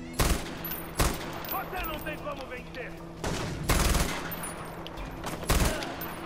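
Weapon fire in the video game Far Cry 4 comes in loud, sharp bursts and rapid volleys spaced through the clip, with someone talking between shots.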